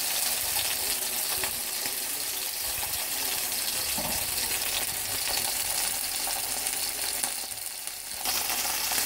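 Beef sizzles and fries in a pan for a sandwich in a home kitchen, a steady, close hiss that runs without a break and sounds much like running water, with no one talking.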